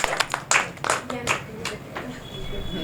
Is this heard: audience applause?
yes